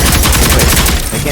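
Rapid automatic gunfire from the video game Rogue Company, a loud, dense burst of shots firing in quick succession throughout, close and dominant.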